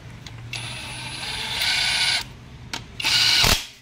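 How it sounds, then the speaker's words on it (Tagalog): An impact wrench on a Nissan NV350 differential, fastening ring gear, pinion gear and bearing, gives several short whirring bursts with pauses between them, fairly loud and close, with no talk over it. "kung mayroon po kayong impact wrench"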